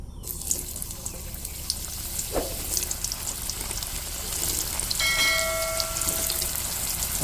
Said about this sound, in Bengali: পটলগুলো লাল করে ভেজে নেবো আমি পটলগুলো আমি লাল করে ভেজে নেবো